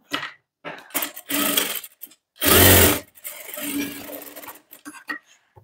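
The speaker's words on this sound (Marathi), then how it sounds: "सर्वात पहिल्यांदा टक्स इथे आपण शिवून घेणार आहोत" A sewing machine runs in short bursts while stitching tucks on a sleeveless V-neck blouse, with one louder, denser run in the middle between quieter stop-start passages.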